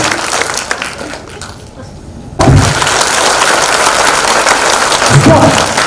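An audience at an education forum in Kolkata breaks into loud, dense clapping after a quieter stretch of scattered noise, the applause sustained to the end.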